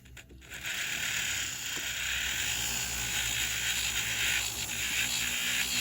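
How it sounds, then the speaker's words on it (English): A flex shaft rotary tool runs steadily at a high whine while copper bow earrings are worked, the tone holding nearly constant after a brief start, close and alone with no talk. "Just turn on my flex shaft."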